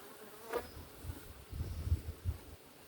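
Honey bees buzz softly around an opened hive as honey frames are pulled out, with faint passing hums and low thuds of movement nearby, no voices.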